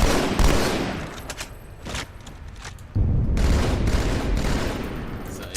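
Rifle shots in a video game land as heavy, muffled booms, a couple of separate blasts followed by a sustained rumbling burst, loud and close.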